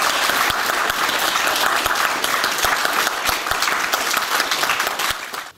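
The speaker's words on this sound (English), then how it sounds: "Give him a round of applause" Steady applause from a crowd at a martial arts black belt grading, many hands clapping continuously before tapering off at the end.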